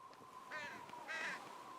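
A crow caws twice, two short, harsh calls about half a second apart, faint and fairly distant over a quiet hum.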